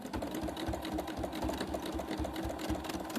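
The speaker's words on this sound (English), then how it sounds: "So you can go up and back a couple of times just to stitch that down." A domestic sewing machine runs steadily through fabric for a large tote bag, its close, even motor whir broken by a regular pulsing stitch rhythm, going back and forth a few times to secure the seam, with no talking.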